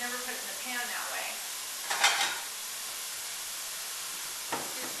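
Meat stir-frying in a home pan gives a steady broadband sizzle throughout, with a louder burst of hiss near the middle and a brief clatter toward the end; a faint voice sits low in the background.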